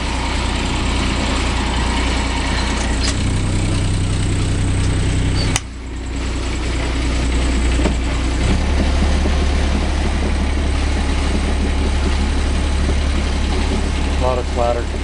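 Inboard engine of a Catalina 28 sailboat running steadily below deck, a loud continuous low drone with a rattling clatter, briefly dipping mid-way before resuming; a voice talks over it.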